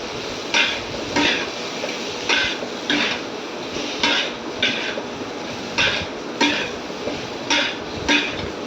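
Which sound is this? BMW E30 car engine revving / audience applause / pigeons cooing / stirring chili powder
stirring chili powder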